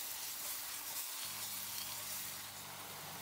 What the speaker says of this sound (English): Give it a gentle and thorough stir so that the paste doesn't stick to the bottom of the pot